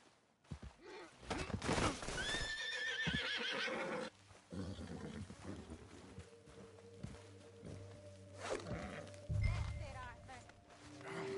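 A spooked horse whinnies loudly and shakily up close, followed by snorting and shuffling movement, with human voices and ambient noise mixed in throughout.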